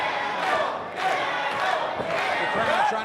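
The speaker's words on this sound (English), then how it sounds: "The crowd trying to bring Jackal back to life." Crowd at a live pro wrestling title match: a loud, sustained roar of cheering and shouting swells and dips steadily, with a commentator's voice faintly mixed in.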